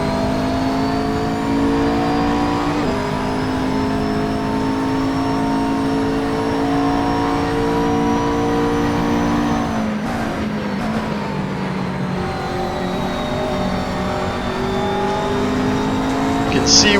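A McLaren GT race car at the Nürburgring GP circuit drones with a loud, steady high-revving engine note that dips briefly around a corner and climbs again, with commentary voices talking over it.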